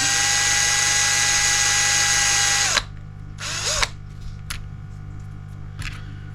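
A power drill boring a 1.5mm peg hole in a small wooden piece for a model semaphore signal, a steady loud whine running nearly three seconds then winding down to stop, followed by faint handling clicks.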